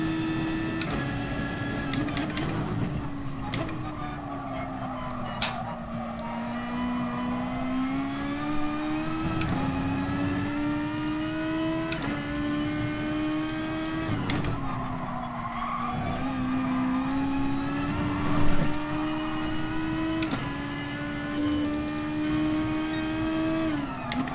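A race car in GT Sport revs high toward 10,000 rpm, its engine note climbing and dropping through repeated gear shifts, loud and steady throughout with occasional tire squeal.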